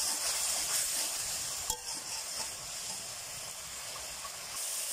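A spice masala cooks down in oil in a pan for a rohu fish and bean-seed curry, making a quiet, even hiss of frying throughout, broken by one small clink.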